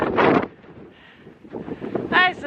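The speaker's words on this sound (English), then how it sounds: "But it's too windy to stay up here" Strong wind gusts buffet the microphone on an exposed hilltop near a mast, a rough low rumble rising and falling, with brief bursts of a voice talking at the start and end.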